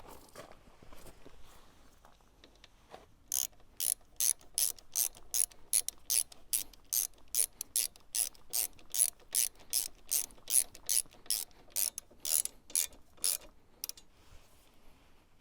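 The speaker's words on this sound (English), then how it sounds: "the T40 Torx and ratchet once again to finish up the installation and tighten the right side" A ratchet drives a T40 Torx bit to tighten the lower mounting bolts of an X-Frame pannier rack on a Husqvarna 701 Enduro, giving a long run of sharp, evenly spaced clicks, close and distinct, after a few quieter handling sounds.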